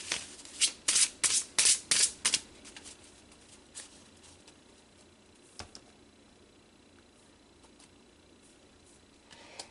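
Tarot cards are shuffled in a quick run of about eight crisp riffling bursts over the first two and a half seconds, close and distinct, then a few faint scattered card rustles in a quiet room.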